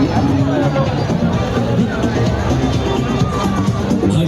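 A busy fair lined with stalls fills the air with a loud, continuous hubbub of many overlapping voices and crowd noise, with no single sound standing out.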